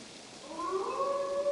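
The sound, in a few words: wolf howling in video game Assassin's Creed Valhalla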